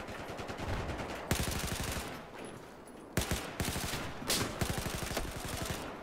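An AWS light machine gun with a 100-round drum magazine fires in Battlefield 4, loosing several loud, rapid automatic bursts up close with brief pauses between them and no voices.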